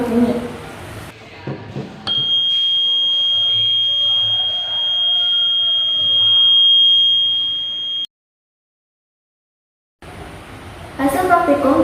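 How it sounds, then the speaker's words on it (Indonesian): Continuous high-pitched electronic buzzer tone from a homemade earthquake alarm, holding steady for several seconds, with brief speech before and after, ending abruptly in silence. "Apabila ada getaran, arus listrik akan mengalir dari sumber energi melalui sensor sehingga alarm berbunyi."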